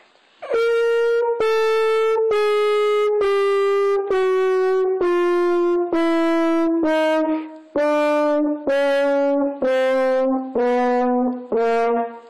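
A horn plays a descending chromatic scale in tongued quarter notes, about a dozen loud, evenly spaced, separately attacked notes stepping steadily downward, close up with no talk.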